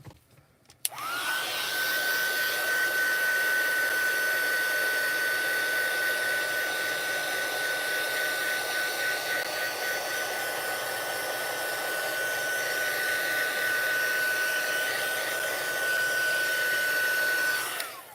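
A heat tool blows a continuous loud whooshing hum with a steady high whine while melting embossing powder on a paper Christmas card, starting abruptly and running unbroken for many seconds before cutting off.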